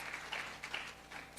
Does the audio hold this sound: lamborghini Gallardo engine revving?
no